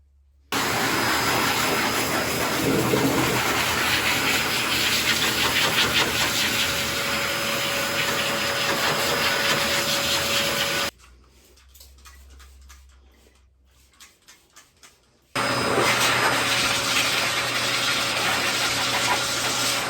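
A loud, steady blow dryer drying a dog roars continuously, cuts off briefly to near quiet with faint rustling, then starts up again at full volume.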